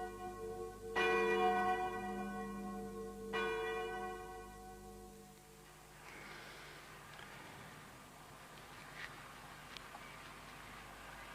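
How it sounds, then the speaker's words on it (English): A bell hung from a tripod at an early colonial settlement rings out with two clear strikes about two seconds apart, each tone decaying slowly before fading into quiet background noise. "they hung the bell from a tripod and rang it every hour."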